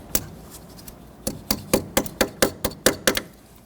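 A tool taps down the cotter pin tab on a castle nut during front lower control arm work on a 1992-1996 Toyota Camry, giving a sharp metallic strike, a pause, then a quick run of about nine evenly spaced taps, close up.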